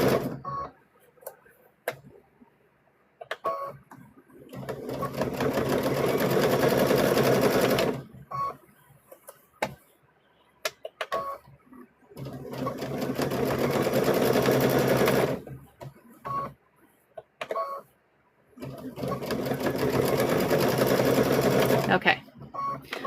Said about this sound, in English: I go and sew around again. That way it's double stitch.